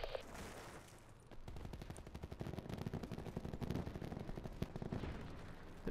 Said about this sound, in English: There's a lot of gunfire over here.